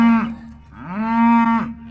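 A calf moos twice in a portable corral during a cattle roundup, a short call followed by a longer, loud, drawn-out bellow close by, with no talking.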